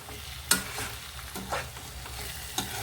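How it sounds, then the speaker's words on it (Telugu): Potato and spinach curry frying in a pan, a soft steady sizzle broken by a few sharp scraping clicks of a spoon stirring against the metal, close and quiet. "మొత్తం మగ్గిపోయి ఫ్రైలా అయిపోవాలండి కర్రీ"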